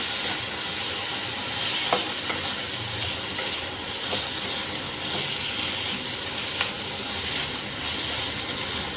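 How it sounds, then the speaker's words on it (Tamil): Two tomatoes sauté in a pan on a stovetop for a Tamil onion-tomato chutney, giving a steady close sizzle with occasional scraping stirs and no talking. "தக்காளியை நல்லா வதங்குற வரைக்கும் நல்லா வதக்கிக்கோங்க."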